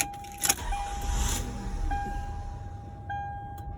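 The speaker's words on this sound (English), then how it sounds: "The car wouldn't start fully," A 1999 Lexus RX 300, just fitted with a new starter, cranks with a whirring starter motor and brief clicks, then a steady tone hangs on as the engine fails to catch fully, close and moderately loud.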